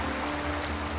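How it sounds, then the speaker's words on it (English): Loud, steady rush of river water flowing close by in the hunting game Way of the Hunter, a dense continuous wash with no break. "The water is very loud as you get close to the river."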